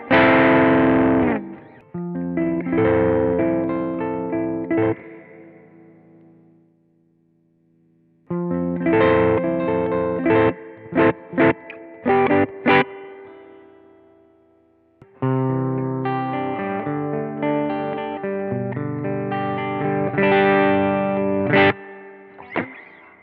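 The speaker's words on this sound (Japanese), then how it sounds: "スプリングリバーブの音ですね。" An electric guitar runs through a BOSS FDR-1 Deluxe Reverb pedal with spring reverb engaged, playing chords and single picked notes in three phrases, each ringing out with a splashy, lingering tail between pauses.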